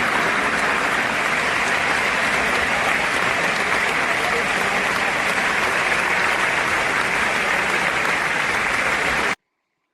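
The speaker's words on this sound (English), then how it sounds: "I want to give a round of applause to that young" An audience breaks into loud, dense applause, a sustained wash of many clapping hands that holds steady before stopping abruptly.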